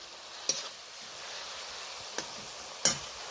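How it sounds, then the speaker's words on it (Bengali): Onion, tomato, garlic paste and slit green chillies frying in a pan, a constant low sizzle broken by three clinking spoon scrapes as the mixture is stirred. "সুন্দর করে নাড়ানাড়ি করে নিচ্ছি।"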